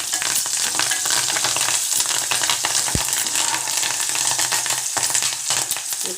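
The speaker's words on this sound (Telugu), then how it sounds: "ఉల్లిపాయలు ఫ్రై అయ్యే వరకు బాగా ఫ్రై చేసుకున్నాం." Chopped onions and curry leaves fry in oil in a pan, giving a loud, continuous close-up sizzle broken by occasional clinks and scrapes of stirring.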